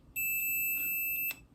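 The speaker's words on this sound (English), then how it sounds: "we have our multimeter set to beep if it is touching" A multimeter set to continuity emits a steady high-pitched electronic tone lasting just over a second, clear and close, while testing a car horn's switch, with faint clicks of the leads.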